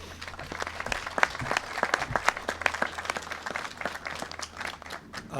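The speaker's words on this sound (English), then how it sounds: "let's all give them a round of applause" Applause from an outdoor crowd at the grand opening of an accessible playground in a park, steady dense clapping with a few louder individual claps standing out throughout.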